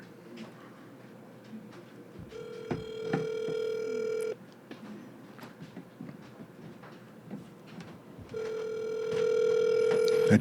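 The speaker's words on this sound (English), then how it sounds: "Okay, I'm calling my parents right now." Phone call placed on speakerphone to parents: two long electronic ringback tones, each a few seconds, with a steady hum and small handling noises between them and a louder final tone.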